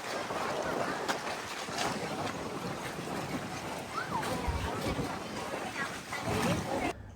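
Continuous hum of a backwater safari boat at Sambrani Kodi, with steady engine and water noise and faint background voices.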